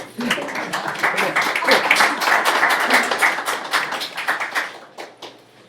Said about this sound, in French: je vais avoir un tonnerre d'applaudissements pour Roland